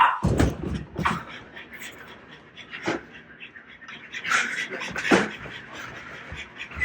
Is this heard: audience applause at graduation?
no